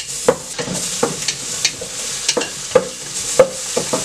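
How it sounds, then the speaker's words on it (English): Ginger, garlic and onion frying in a pan under a steady sizzle, with a utensil scraping and tapping the pan in an irregular stirring rhythm, close and fairly loud, no voices. "just stir that well."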